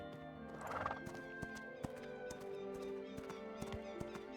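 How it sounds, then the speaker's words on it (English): A horse mount in the video game Ashes of Creation whinnies briefly, then hooves clip-clop in a steady trot over quiet background music. "Start calling in my horse again."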